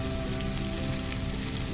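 Onion and garlic fry in a pan for a vegan fried rice, a dense, even close-up sizzle that hisses steadily like rain throughout, with no talking.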